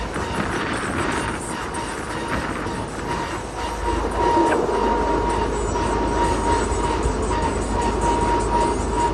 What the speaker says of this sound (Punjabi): ਸਾਹਮਣੇ ਰੇਲ ਗੱਡੀ ਆਤੇ ਹੋਏ